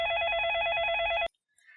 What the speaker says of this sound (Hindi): अरे भाई, किसका फोन आ गया?